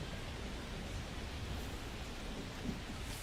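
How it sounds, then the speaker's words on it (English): Rain pours onto a ball field in MLB The Show, a steady, dense hiss of falling water that holds even and broadband, with no voices over it. "the field's not going to be able to hold up if the rain gets any worse than this"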